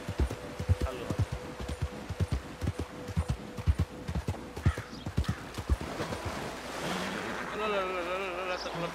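Horse hooves clip-clop in a steady close rhythm in Red Dead Redemption 2, then give way to splashing water and a whinny near the end, with a voice talking faintly.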